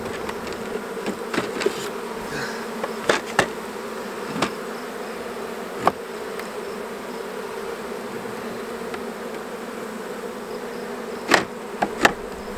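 A steady, close hum of honey bees buzzing over an open hive with drawn-out comb, broken by a few scattered sharp knocks and clicks from frames being handled.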